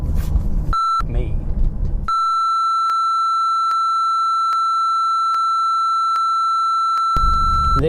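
Warning beeps chime inside a BMW M5 F10, a steady tone pulsing in evenly spaced repeats for several seconds, loud and close, with cabin noise around them.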